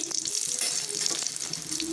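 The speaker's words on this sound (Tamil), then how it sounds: "கடுகு நல்லா வெடித்து வரட்டும்." Mustard seeds sputter and crackle in hot sesame oil in a home kitchen, a quick, quiet run of popping and sizzling with no talking.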